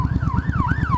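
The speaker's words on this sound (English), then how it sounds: "oh, ambulance." A loud, close ambulance siren wails up and down in a smooth repeating sweep, over a pulsing rumble of engine or road noise.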